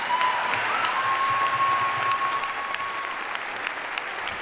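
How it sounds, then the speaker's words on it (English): Steady, loud applause from an audience at a teacher awards night, continuous clapping filling the room throughout with a faint tone running beneath it. "How about an extra round of applause for Mary's pencil skirt, most creative dress of the night."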